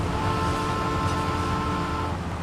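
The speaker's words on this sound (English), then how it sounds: "There's the train." A train rumbles past in the driving game My Summer Car, a loud, steady low mechanical roar with humming tones that fills the whole moment without a break.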